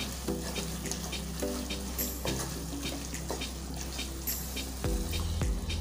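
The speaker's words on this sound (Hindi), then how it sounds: "सारी चीज़ों को अच्छे से मिक्स कर लेते हैं।" Chili, coriander and cumin powder being stirred in a frying pan for prawn pulao, giving a steady sizzle with scraping stir strokes throughout and a louder clatter near the end.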